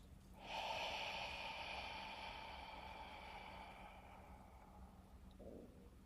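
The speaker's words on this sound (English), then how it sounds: "Let's inhale and exhale fully." One long, deep breath in a guided breathing exercise: a close, breathy hiss swells quickly, holds steady for several seconds, then tapers off, with no talking.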